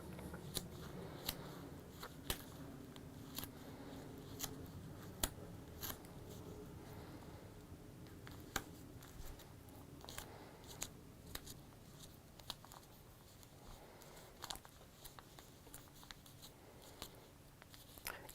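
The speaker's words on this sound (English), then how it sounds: "So you're just unpicking your tacking stitches." Thread being unpicked from tacking stitches in paper foundation piecing: soft, close snips and small tugs scattered at an irregular rhythm over a quiet, faintly rustling background, with no talking.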